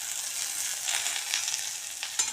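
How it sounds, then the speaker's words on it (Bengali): Vegetables fry gently in a pan over a low flame, a soft, steady sizzle with faint crackles and no voices. "দেখতে পাচ্ছেন সবজিগুলো ভাজা ভাজা হয়ে এসেছে"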